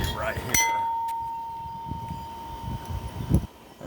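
An old Milton gas station driveway bell gives a single bright ding that rings on and fades. Rustling, handling noises and faint murmurs continue underneath.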